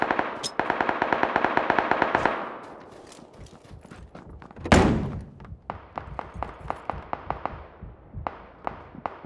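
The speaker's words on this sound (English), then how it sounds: "I'm getting shot from elsewhere." Rapid bursts of video game gunfire, a sustained automatic stream followed by a loud nearby blast and then a run of evenly spaced single shots, all loud and close with no talking.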